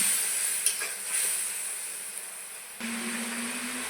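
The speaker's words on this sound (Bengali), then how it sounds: "মশলা ভালো করে কষিয়ে নেব" Spice paste for a soybean curry stir-fried in a pan, a steady close sizzle and hiss with brief scraping stirs; a low hum starts partway through and continues under the frying.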